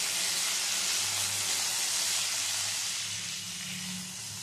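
Fried potatoes with added tomato pieces sizzle in a pan for a vegetarian drumstick curry, a steady, close hiss that holds evenly and softens slightly at the end.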